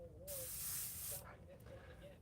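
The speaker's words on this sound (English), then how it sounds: "Make sure you're spraying good." A spray gun lets out a single steady hiss lasting about a second, close and faint, followed by a shorter softer burst, with a quiet tone underneath.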